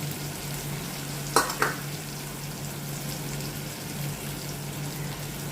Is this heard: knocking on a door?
no